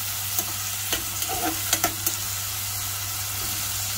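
Tomatoes and garlic sizzle steadily in a hot pan while a utensil stirs them, giving a few soft scraping knocks over the constant frying hiss.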